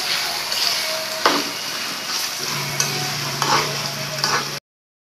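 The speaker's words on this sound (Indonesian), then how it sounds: "Oke, dan saatnya kita menggoreng ya." Steady loud sizzling of beef chunks frying in hot oil, with occasional stirring scrapes and crackles, close up and with no voices.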